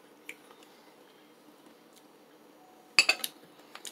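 A spoon scoops Stonewall Kitchen sesame ginger teriyaki sauce from a jar, giving a sharp close clink and a few quick scraping taps after near silence, then one faint final tick.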